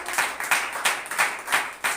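A church congregation claps together in a steady rhythm at a New Year worship service, with about six loud, evenly spaced group claps.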